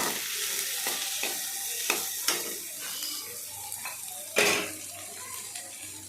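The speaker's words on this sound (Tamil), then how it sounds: "நல்லா வதக்கி விட்டுக்கோங்க." Onions and spices sautéing in a pan for village-style goat intestine gravy, a soft continuous sizzle broken by occasional scraping stirs of a spoon, close and fairly quiet with no talking.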